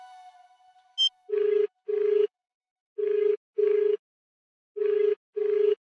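Phone ringback tone on an outgoing call: six evenly spaced electronic beeps in pairs, loud and clear, after a short soft tone at the start, with no talk over it.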